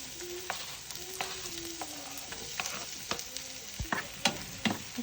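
Garlic and then onion sauté in hot oil for ginisang sardinas with bok choy: a soft, steady sizzle broken by repeated clinks and scrapes of a spatula against the pan, no talking.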